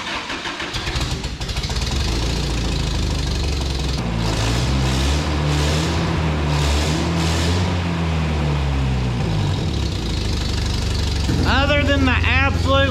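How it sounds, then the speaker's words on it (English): A 1993 Toyota Pickup engine runs with a large exhaust leak at the manifold collector, giving a steady, loud idle rumble that holds throughout, with someone talking over it and a brief rising squeal near the end. "Other than the absolute monster of an exhaust leak that's coming from right where the exhaust manifold collects to the exhaust, she's running kind of fairly decent"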